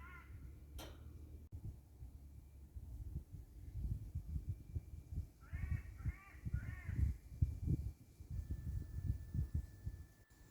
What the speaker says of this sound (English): Why not just spend your time relaxing around this area and enjoy the bird song